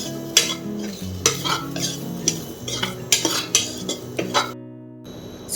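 Ingredients for Mangalore-style clam sukka dry-roasting in a pan, with repeated scraping and clinking stirs of a utensil against the pan over a faint sizzle, then a brief quiet stretch near the end.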